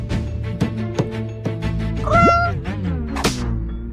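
A cartoon cat meows in a drawn-out, rising and falling call, set against a rhythmic background music track with regular percussive beats and a bright sweeping accent near the end.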